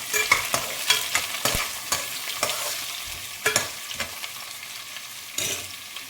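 Carrots, chilli and onions frying in a pan for a soya-chunk pulav, stirred with a spoon: sharp scraping knocks at an irregular rhythm over a soft continuous sizzle, close up and without talk.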